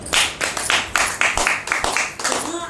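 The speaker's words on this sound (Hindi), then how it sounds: "एक जोरदार ताली होनी चाहिए" Audience at a Hindi-language panchayat meeting clapping in strong, rhythmic bursts, close and fairly loud, with a voice faintly underneath.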